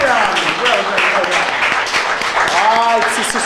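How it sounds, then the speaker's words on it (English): Applause rises from the audience at a spelling bee semifinal, scattered clapping running beneath a speaker's voice throughout. "Give yourself a big round of applause."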